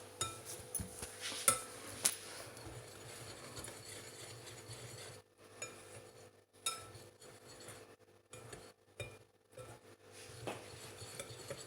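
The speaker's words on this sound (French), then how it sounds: "Maintenant, on va mélanger la farine de pois chiches et les épices." Chickpea flour being stirred together with spices in a bowl, giving a few scraping, clinking utensil strokes in short bursts, fairly quiet and broken by brief near-silent pauses.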